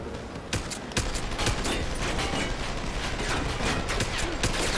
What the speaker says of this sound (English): wait for him to stop firing because he takes time to spin up